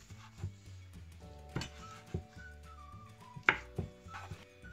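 Peppers are sliced into thin strips for pickles, a series of irregular knife taps on a board, close and clear, with whistled melody notes drifting faintly in the background.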